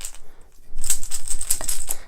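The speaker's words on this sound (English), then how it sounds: "I'm going to shuffle these up and put them back in the bag" Plastic board game tokens from Talisman Legendary Tales are shuffled and dropped back into a bag, giving a close, continuous clatter of small clicks and rustles after a brief quiet start.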